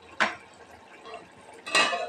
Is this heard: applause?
no